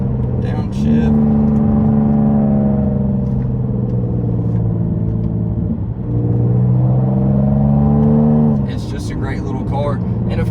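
Supercharged Jaguar XE 35T R-Sport sedan downshifting and accelerating on a downhill road, a loud close engine drone rising in pitch, easing at mid-point, then climbing again before tapering off.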